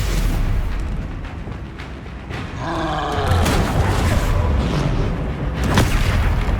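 Stupefy spell cast in Hogwarts Legacy, a loud, deep magical blast that booms and rolls into a rumbling roar, with a swirling whoosh swelling through the middle and a sharp crack near the end.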